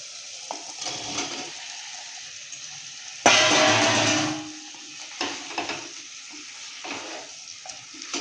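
Potatoes drop into a pan of cooked-down spice paste and oil for a vegetarian aloo dum, a loud sudden sizzle that fades over about a second, followed by steady frying hiss and scraping stirs; no talk.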